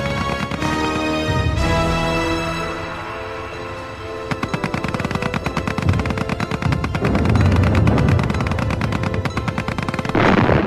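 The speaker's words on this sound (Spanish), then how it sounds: "Las ametralladoras francesas detuvieron muchos contraataques franceses antes de que empezaran." Battle sound effects from the First World War at Verdun, with rapid bursts of machine-gun fire rattling loudly and continuously alongside deep booming artillery blasts, all close and dense with no talk.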